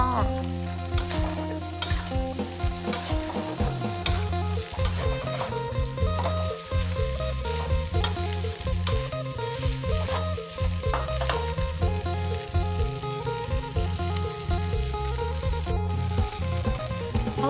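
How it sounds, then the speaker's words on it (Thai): Rice vermicelli noodles stir-fry in a wok over medium heat, a continuous loud sizzle broken by repeated scraping and clanking of the utensil as the noodles are tossed back and forth. "คนกลับไปกลับมานะคะ ระวังติดกระทะนะคะใช้ไฟกลางๆค่ะไม่ต้องไฟแรงมากค่ะ เดี๋ยวเส้นหมี่เราจะไหม้ไม่น่าทานค่ะ"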